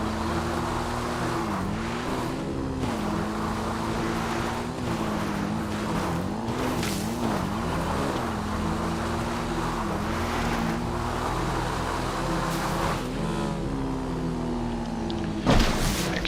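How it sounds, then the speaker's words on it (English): Motorbike driving in GTA Online's Cayo Perico, a steady engine drone whose pitch rises and dips repeatedly as it shifts and revs, continuous throughout with a brief burst near the end. "Get on the bike and drive."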